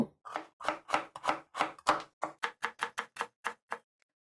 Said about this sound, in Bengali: এরপরে আরও একটু চিকন করে কেটে নিব।